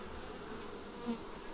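Honey bees buzzing during a Langstroth horizontal hive inspection, a faint continuous drone of many bees close by with no talking.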